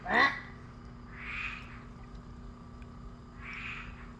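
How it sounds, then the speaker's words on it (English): Giant toad croaking at night, three separate low, buzzy calls spaced a second or two apart, moderately near, with a sharper sound at the very start and steady background hum throughout. "I really do think that's a giant toad."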